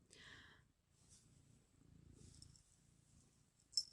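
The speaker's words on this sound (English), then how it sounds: "my black cat decided to come up and love on me during this" A black cat purrs close by in soft, low rumbling pulses that run through most of the clip, with a brief higher sound at the start and a sharp click near the end.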